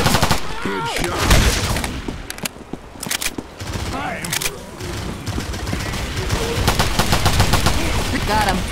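Dense, continuous gunfire from Left 4 Dead 2 crackles in fast overlapping volleys, loud and close, with shouting voices mixed in among the shots.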